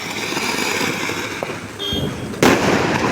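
A steady, hissing roar of a flowerpot fountain firework burning close by at Diwali, joined by a sharper, louder burst of crackling spray partway through.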